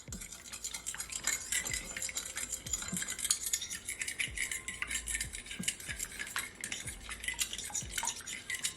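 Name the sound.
fork whisking eggs in a bowl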